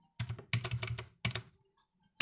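Someone types on a computer keyboard wired to a device that has no computer. Quick clattering bursts of keystrokes are separated by short pauses, heard close and with no talking.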